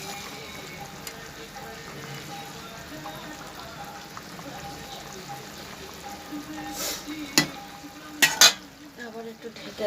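Fish frying in hot oil in a pan with whole green chillies, a steady soft sizzle with light scraping and stirring knocks, a few sharper clatters near the end.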